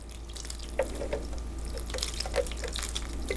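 Orchid roots rinsed under a running kitchen tap, with a steady close stream of water and a few brief splashy drips as the roots are moved through it.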